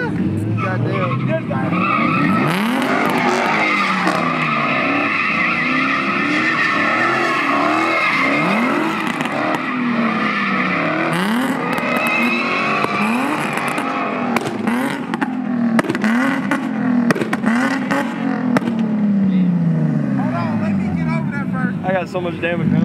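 A Nissan G35 with a VQ engine two-steps and revs hard at a car meet, its loud popping rasp mixed with tire squeal and crowd noise, and people shouting nearby throughout.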